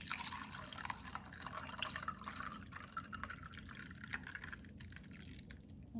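Cran-raspberry juice poured into a drink with 7-Up, a steady close trickle and splash of liquid filling a glass with no talking.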